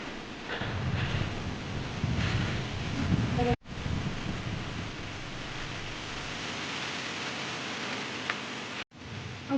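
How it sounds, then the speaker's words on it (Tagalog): Strong, gusty wind buffets the microphone on a hiking trail between Nim Shue Wan and Mui Wo, a continuous loud roar with brief dropouts and a faint voice in places. "Grabe yung hangin oh, nagburo-buro."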